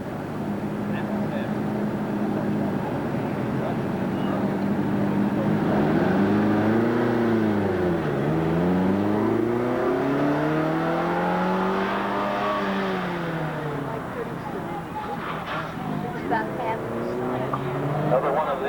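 Race car engines rev and accelerate down a 1987 Gettysburg, Pennsylvania track, with sweeping pitch rises and falls as cars pass, loud and sustained, while a voice talks over the engine noise.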